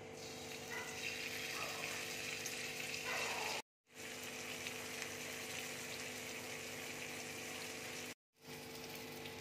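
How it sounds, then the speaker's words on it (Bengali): Paneer pieces fry in a little oil in a kadai, giving a continuous, even hiss of sizzling. The sound cuts out briefly twice. "এবার আমি পনিরগুলো ভেজে নিচ্ছি।"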